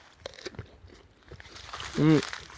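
A crisp crunch of biting into a firm, slightly overripe Talgarska Krasunia pear, followed by chewing, close up amid quiet handling sounds and a brief voiced sound.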